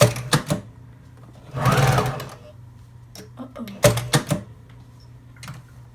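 A sewing machine stitches a custom water bottle cover in short bursts, with a longer louder run in the middle and several quick clattering spurts later, close by and alone with no talking.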